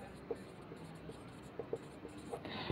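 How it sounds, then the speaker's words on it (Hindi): Chalk or marker on a board during a chemistry lecture on effusion, making soft intermittent taps and short scratchy strokes, faint against quiet room hiss. "यहाँ पर लिख देते हैं इफ्यूजन।"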